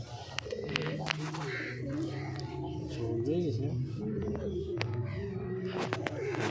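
Domestic fancy pigeons, including Girebaz birds, coo softly in a loft while a person talks nearby over the murmuring birds.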